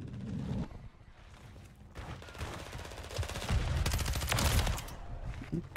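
Rapid automatic SMG fire in Modern Warfare 3, with loud bursts of shots from the player and incoming fire, close and rattling, with brief pauses between bursts.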